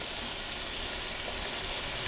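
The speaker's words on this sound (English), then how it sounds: "now that I have some rendered fat in the bottom, I'm going to add the onion" Onion hits rendered fat in a pan while keto chili pizza is being made, giving a loud, even, continuous hiss of frying that stays steady and close throughout.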